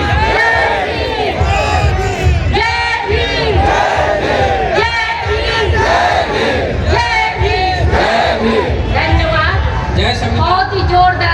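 A large crowd at a gathering on the Preamble of the Constitution of India chants slogans loudly in unison, with rhythmic, sustained shouts close by.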